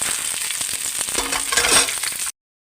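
Okra frying in a little oil in a pan, with a steady loud sizzle and a few stirring clinks for about two seconds before cutting off.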